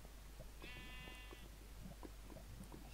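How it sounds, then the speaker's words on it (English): A single bleat from a sheep in the blocky sandbox game Minecraft, a short wavering cry over a steady low hum and faint clicking, with no talking. "What is the sheep doing here?"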